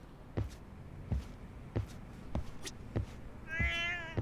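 A cat meowing in the video game Lost Judgment, giving a series of short, clear meows at a fairly steady rhythm, roughly six in a row, ending with a longer drawn-out cry, close and alone.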